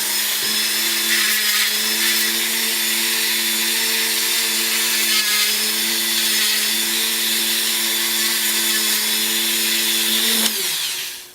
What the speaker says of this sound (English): Take like a Dremel tool or some sandpaper and rough up the outside.